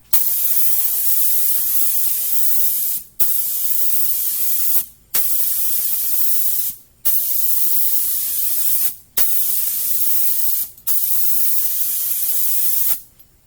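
A paint sprayer lays a second coat on a piece of furniture in six long, steady hissing bursts, each stopping briefly before the next pass, loud and close with no talking.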